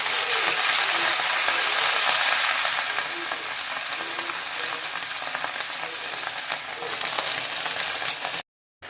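Drumstick leaves frying in a pan, a loud dense crackling sizzle that runs steadily and eases slightly before cutting off abruptly near the end.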